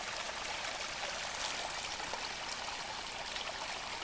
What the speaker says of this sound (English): here's another feeder stream coming down the side of the mountain